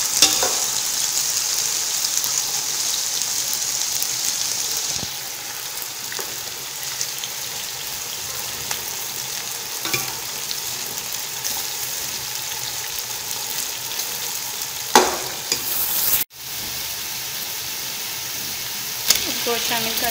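A kilo of onions fries in hot oil in a pot for beef achar gosht, giving a loud, even sizzling hiss that runs throughout, broken by a few sharp stirring clatters and one abrupt cut.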